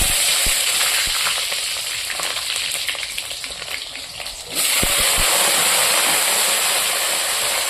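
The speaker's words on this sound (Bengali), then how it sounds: "ধুয়ে নিয়েছি আমি পটল আর বেগুনটা আর এদিকে কিন্তু বসিয়ে দিয়েছি তেল এবার আমি এখানে ভেজে নেব" Pointed gourd and eggplant fry in oil with a loud, constant hiss that dips briefly, then surges back as more pieces hit the pan, with occasional stirring knocks.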